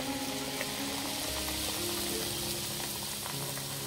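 Kombdi vada deep-fry in oil on a low gas flame, producing a steady, dense bubbling hiss that stays even throughout, faint and continuous with no talking.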